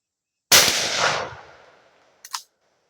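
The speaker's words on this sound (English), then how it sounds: "So once again, I'm going to shoot to the left, the box on the left." A single loud gunshot at a turkey shoot, fired at a target box, with a sharp crack that rings out and decays over about a second and a half, then a brief faint clatter follows.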